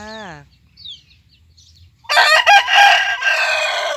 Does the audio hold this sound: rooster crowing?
yes